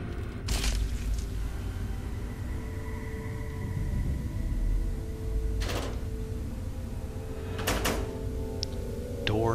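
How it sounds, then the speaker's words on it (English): Vault doors in the video game Fallout 3, inside Vault 92, opening as a steady low mechanical rumble with a few sharp clanks and hisses breaking through, no voices over it. "Doors opening."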